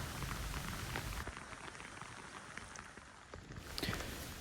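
Steady rain coming straight down on a farm, a dense even hiss with scattered drops pattering on nearby surfaces.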